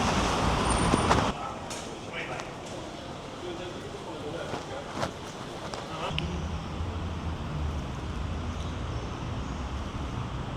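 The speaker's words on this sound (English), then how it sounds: "Lots of traffic today in Bucharest." Busy city traffic in Bucharest, a continuous rumble of buses, cars and trucks with passing engines and a low idling drone, heard from street level under someone talking.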